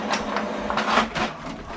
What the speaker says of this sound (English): Now this document we're going to print it on both sides,